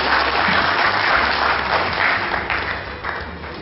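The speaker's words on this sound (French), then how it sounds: "Applaudissez pour lui, s'il vous plaît." Applause at a wedding ceremony, steady dense clapping from the guests that holds at an even loudness throughout with no talking over it.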